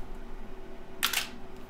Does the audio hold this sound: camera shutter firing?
yes